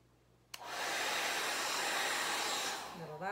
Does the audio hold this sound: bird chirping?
no